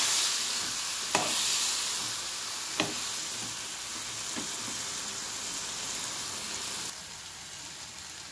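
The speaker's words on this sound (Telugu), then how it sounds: "మసాలా వేగిపోయింది కాబట్టి ఇదంతా కలుపుకుందాం" Fried masala and vegetable pieces being stirred in a pan, a steady sizzle with a few sharp scraping clicks of the spoon against the pan, no voices.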